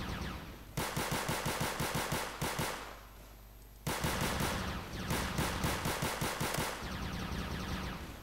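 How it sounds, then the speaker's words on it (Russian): A weapon fires in rapid automatic bursts in the video game Roblox Zombie Rush, loud and close, with two long volleys of steady shots separated by a short pause. "Ого, она тут стреляет какими штуками."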